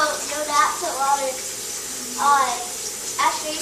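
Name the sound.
tap water running while washing hands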